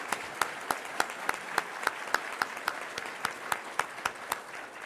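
Luncheon audience at a business fundraiser for Tougaloo College scholarships applauding, a steady wash of clapping punctuated by regular sharp individual claps, moderately distant and without talk.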